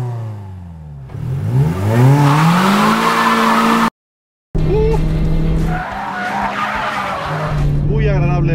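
A 2018 Toyota Yaris GRMN on MSLX tyres driven hard on a race circuit: engine revs climbing through gears with loud tyre squeal and skidding, a brief cutout, then more revving and squealing close by.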